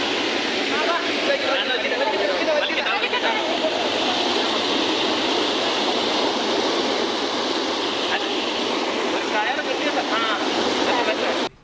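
A strong river current rushes over a check-dam causeway at Alathur, roaring loud and steady the whole time, with no break in the dense, broadband wash of water.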